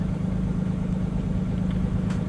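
A diesel truck or bus engine idles at about 1050 RPM during a forced regen, producing a close, steady, low droning hum with an even rumble and no change in pitch.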